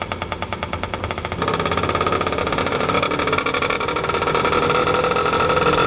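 A tuk-tuk engine runs close by in Trang, Thailand, at first a rapid, rattling putter, then a louder, denser drone as it picks up speed.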